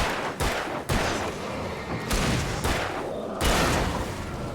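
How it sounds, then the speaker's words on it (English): Flare gun shots in the video game Alan Wake, several loud, booming blasts spaced a second or so apart, each followed by a sustained fiery hiss, with no talking. "Kill 4 with a single shot from the flare gun."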